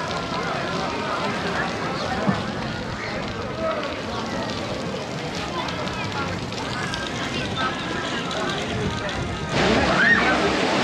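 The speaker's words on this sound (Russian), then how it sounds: "Заработал фонтан. И уже вода." A public fountain running beside a crowded seaside beach, giving a continuous splashing rush of water under steady crowd murmur and nearby talking, with the splash growing louder near the end.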